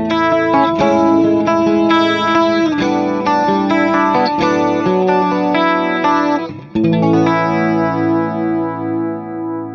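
An electric guitar strums clean chords through a chorus pedal, giving a rich, shimmering and warbling tone. The chords ring loud and sustained, with a brief dip before the last one.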